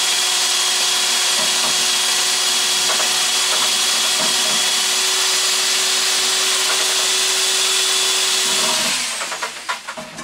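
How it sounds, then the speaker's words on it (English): High-speed mixer churning blue pottery glaze, a loud steady whirring hum that runs unbroken for several seconds before winding down and fading at the end. "this is our blue glaze and our high-speed mixer"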